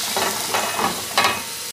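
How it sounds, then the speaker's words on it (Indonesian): Ground dried chili paste frying in a pan for grilled spiced black pomfret, a steady close sizzle with a few louder stirring swells and no talk. "sekarang ni kita akan masuk cili kering yang kita kisar ni"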